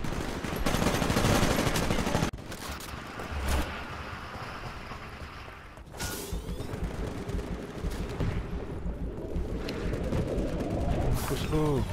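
Smart pistol gunfire in Titanfall's Angel City map, with repeated shots and bursts crackling through a dense, loud battle mix of explosions and machinery, a few sharper reports standing out.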